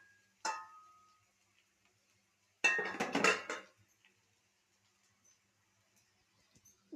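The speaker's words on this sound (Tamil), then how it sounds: "மூடி போட்டுடலாம்." A metal lid clatters onto a cooking pan of lentils frying over a low gas flame, with a short clink followed by a louder rattling burst of a second or so, then near silence.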